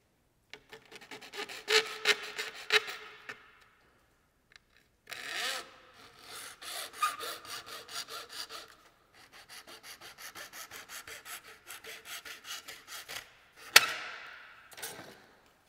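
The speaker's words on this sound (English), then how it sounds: "that's where this particular saw comes in really nice because it's super thin. Just gets a super thin cut." A thin hand saw cuts through a wing strut fairing on a Zenith CH-750 Super Duty kit aircraft, in close, dry rasping strokes that come in several bursts with short pauses between them, and no one talks.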